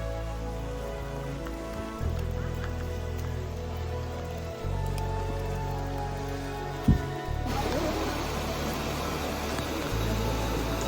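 Steady rain falls on surfaces during a pre-dawn trek up Kalasubai peak in Maharashtra, a dense continuous patter with a low engine-like hum beneath and a few brief knocks.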